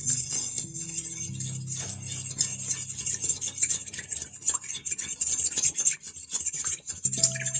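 Cilantro paste for taco slaw being mixed with a spoon in a bowl, steady close scraping and clinking strokes repeating throughout, with no talking.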